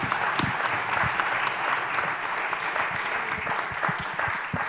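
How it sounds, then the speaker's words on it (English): A meeting audience applauds, sustained and steady, a crowd of hands clapping continuously at moderate volume for several seconds without talk. "Can we have a round of applause?"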